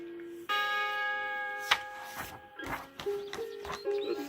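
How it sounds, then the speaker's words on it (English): A bright bell-like chime rings out with sustained, evenly spaced overtones, signalling the page turn on a 1981 Strawberry Shortcake storybook record; it sounds alone, then fades under soft rustling noises. "when you hear the chime, turn the page."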